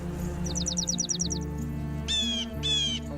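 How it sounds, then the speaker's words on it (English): Bird calls from the Wingspan board video game: a quick run of about ten rapid chirps, then two longer warbling calls, set over a steady musical background hum. "Wingspan is a place full of birds."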